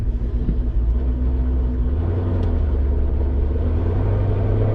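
A cammed 5.7 Dodge Challenger R/T engine rumbles heard from inside the cabin, a deep, loping low-pitched drone that stays loud and continuous throughout.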